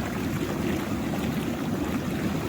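Water churns and bubbles steadily from the jets of a large DIY concrete hot tub, a close, even rushing wash with no voices.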